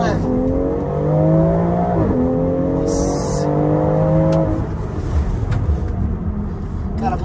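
BMW X3 M Competition SUV with its six-cylinder engine, shared with the M3, accelerating hard through the gears, a loud close rising engine note with two clear upshifts, and a brief tire squeal partway through.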